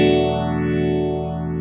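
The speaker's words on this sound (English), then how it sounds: "the barber phaser is a phaser that will rise continuously or fall continuously" A Strymon Zelzah modulation pedal's barber pole phaser runs a continuously rising sweep over a sustained, distorted tone, the notches gliding upward steadily for a second and a half, loud and alone.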